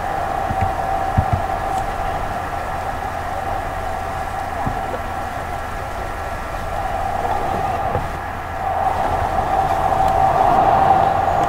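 A tram runs between Mitcham Junction and Addiscombe in Croydon inside a Roblox game, giving a steady electric hum and rail rumble with a high whine that swells near the end, continuous and mid-level with no talking.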